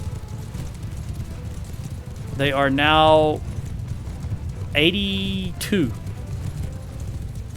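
Cavalry horses gallop in a battle in the video game Mount & Blade II: Bannerlord, a low rumble of hoofbeats running underneath a man's speech throughout.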